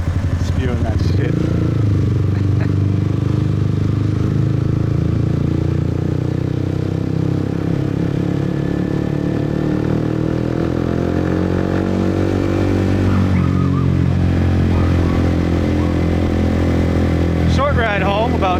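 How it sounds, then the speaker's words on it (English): A motorbike rides through quiet Saigon streets during lockdown, its mid-pitched engine droning steadily and close for the whole ride, shifting slightly in pitch as it eases along, with someone talking over it. "It's so weird to be on a motorbike"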